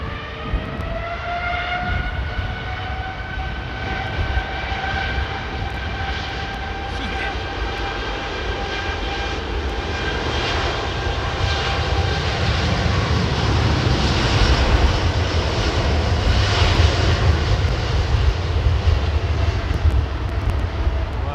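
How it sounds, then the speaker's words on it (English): A Boeing 787 Dreamliner takes off at London Heathrow, its jet engines building from a whining, tonal roar into a louder broadband rumble. A voice speaks briefly over it. "Oh, look at this. Intersecting Dreamliner."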